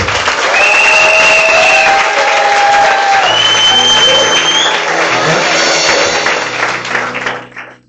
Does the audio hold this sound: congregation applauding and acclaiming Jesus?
yes